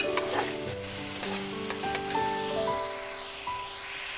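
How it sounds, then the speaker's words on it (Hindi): Peas frying and being stirred in a pan for a chicken macaroni dish, with a steady sizzle and repeated scraping strokes of a spoon throughout, close and fairly loud, no voices. "इनको अच्छी तरह से फ्राई कर लूँ"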